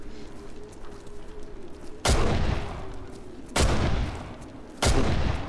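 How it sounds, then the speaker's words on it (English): Three loud, close gunshots in the survival horror game Condemned: Criminal Origins, spaced a second or more apart, each a heavy blast with a booming decay over a low ambient hum. "Here they come, so I might as well shoot at them."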